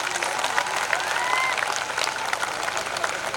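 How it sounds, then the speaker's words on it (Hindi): Audience applause at a school performance event, a dense, steady clapping from a crowd, with a whistle or two rising above it and faint voices underneath. "उससे कहीं बढ़कर के आप ताली बजा सकते हो"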